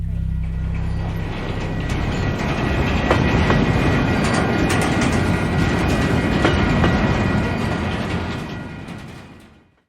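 A train rolls along the rails with rhythmic clickety-clack and rattling carriage mechanisms, a loud continuous rumble that fades out toward the end.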